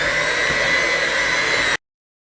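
Steady electric mixer whirring at constant speed as it whisks softened, room-temperature butter for chocolate cake frosting, loud and continuous before cutting off abruptly into silence.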